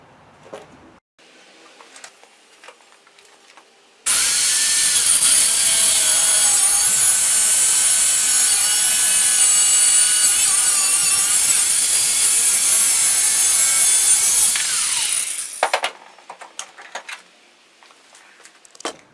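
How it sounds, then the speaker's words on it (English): A loud, continuous high-pitched screech of a steel bolt being cut runs for about eleven seconds, bracketed by quiet stretches with faint clicks and handling noises. "So let's go ahead and cut this bolt off."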